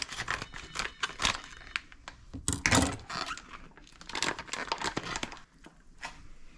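A plastic package of corned beef for the slow cooker is cut open nearby with crisp crinkling, snipping and tearing, rustling irregularly for several seconds without talking.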